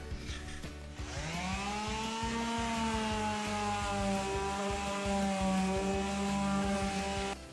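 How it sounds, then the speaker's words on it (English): A power sander works a hardwood floor with 120-grit paper, whirring up and running steadily at high speed, a loud continuous mechanical drone with a faint rhythmic ticking beneath. "And now on to our 120, which will be our final sanding for this here."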